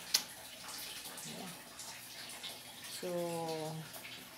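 A dirty pillow being washed by hand produces soft water splashing and sloshing, faint and close, with a brief voice partway through.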